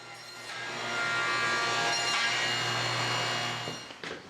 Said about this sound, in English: Now you see me here running these boards through my table saw.